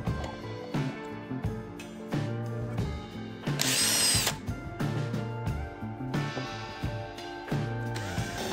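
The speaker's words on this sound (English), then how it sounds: "Drill it to fit our nozzle." A power drill whirs in repeated short bursts, close and loud, drilling an old metal radiator cap, with one longer high-pitched grinding stretch in the middle.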